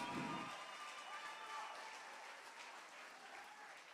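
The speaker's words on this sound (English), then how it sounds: "Let's give these fighters a big round of applause" Audience applause for fighters at a charity boxing event, a steady wash of clapping that holds evenly throughout, starting a little louder and easing slightly toward the end.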